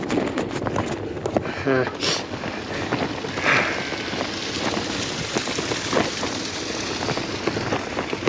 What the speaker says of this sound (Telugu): దాదాపు భయంకరంగా వాన